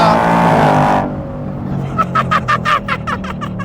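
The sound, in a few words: Ford Mustang GT V8 engine revving at 5,000 RPM in quiet mode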